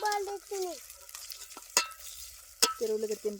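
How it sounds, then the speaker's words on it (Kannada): Onion, green chilli and potato fry in hot oil in a North Karnataka home kitchen. A soft sizzle runs under tonal voice-like sounds, with two sharp metallic clinks from stirring in the pan. "ಈ ಉಳ್ಳಾಗಡ್ಡಿ ಮೆಣಸಿನ್ಕಾಯಿ ಈ ಆಲೂಗಡ್ಡಿ ಇವೆಲ್ಲ ಫ್ರೈ ಆಗ್ಬೇಕ್ರಿ"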